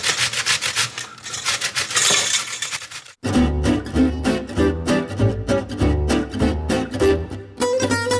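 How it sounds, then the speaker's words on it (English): Soft zucchini is rubbed quickly against the coarse side of a box grater, giving close, continuous rhythmic rasping strokes with a brief pause partway through. "a box grater makes really quick work of these things"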